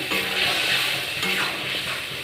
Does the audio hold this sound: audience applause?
no